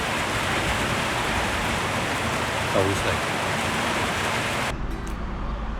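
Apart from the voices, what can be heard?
rain falling during bicycle tour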